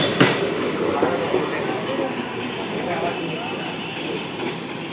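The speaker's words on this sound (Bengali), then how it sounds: "ফ্যাক্টরি থেকে ফ্রেশ নতুন লোকাল ট্রেনগুলোকে এইভাবে নিয়ে যাওয়া হয়" A brand-new local electric train set from the Chennai factory, hauled by a locomotive on Eastern Railway tracks toward Dum Dum, rolls past with steady rumbling rail noise, a sharp clack near the start and people talking throughout.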